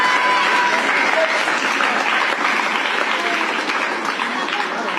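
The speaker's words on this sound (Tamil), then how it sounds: "சோ இவ்வளவுதான் கரகோஷம் அவர் சொன்னதுக்கு" Audience applause rolls on steadily for a few seconds during a talk by a political analyst, a dense even wash of clapping from a crowd with no clear voice over it.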